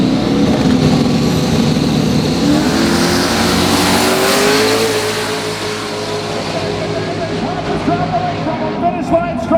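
Drag racing cars at Roadkill Nights roar at full throttle down the strip, a loud sustained engine blast that slowly fades into the distance, with a commentator talking over it.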